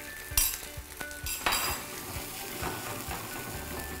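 Tomato-based salsa sauce made with nacho dip, simmering and being stirred in a pan over low heat, with scraping utensil clatter and a soft steady sizzle close by.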